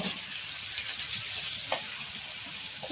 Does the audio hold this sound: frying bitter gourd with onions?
yes